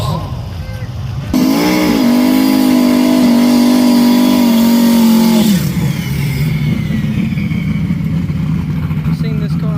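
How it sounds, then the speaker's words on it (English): A drag race car at Kentucky Dragway revs loud and near, holding a strained high engine note for several seconds as the tires spin, then drops back to a rough idle rumble while voices talk nearby. "Spin the tires."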